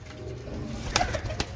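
Pigeons coo softly in a short burst over a low background hum, with a couple of brief sharper sounds near the end.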